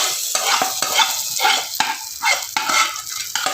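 A hot tempering is poured into a mutton curry and stirred, making close, loud bursts of sizzling that rise and fall in quick repeated surges.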